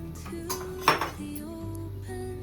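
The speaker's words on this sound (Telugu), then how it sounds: "మనం పొయ్యి మీద గిన్నె పెట్టాము, ఆయిల్ వేసాము, నెయ్యి వేసాము." A metal cooking pot clanks once onto a stove for making bagara rice, over steady low kitchen hum and a faint background tone.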